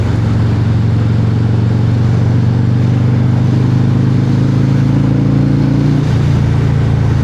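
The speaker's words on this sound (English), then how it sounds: "hopefully you guys are hearing the exhaust" A Harley-Davidson Breakout 117 motorcycle engine drones steadily and close, a low rumbling exhaust note holding at an even idle, shifting slightly in pitch near the end.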